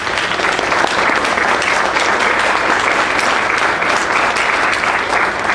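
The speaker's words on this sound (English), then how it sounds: "another big round of applause for the panel" Sustained, loud audience applause fills the room for a panel at a community college event on a stormy night, dense clapping steady throughout with no voices over it.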